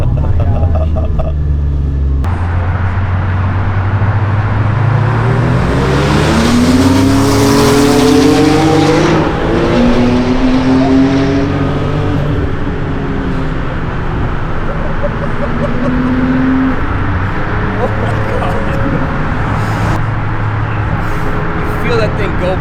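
A Porsche 987 rebuilt with a 4.1L turbo engine roars past close by, its loud rising and falling engine note sweeping through as it accelerates, with people talking over the noise.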